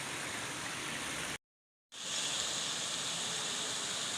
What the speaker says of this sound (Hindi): ये नदी में पानी जा रहा है।